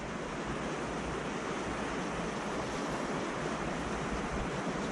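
A steady, dense roar of rushing water fills the scene without pause, loud and continuous like a nearby waterfall.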